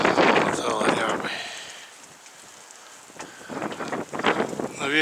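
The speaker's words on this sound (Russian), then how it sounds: "Но ветер бешеный" A strong southerly wind gusts at roughly 15 m/s, buffeting and roaring against the microphone in loud surges that ease and then return, with people talking over it.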